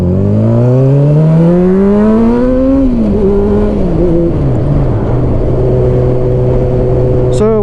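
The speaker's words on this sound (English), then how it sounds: "most people that have seen my bike in person comment on how loud it is and how great it sounds" A motorcycle fitted with a loud aftermarket exhaust revs up and down, its engine note climbing and falling in strong, close, sustained sweeps that fill the whole span.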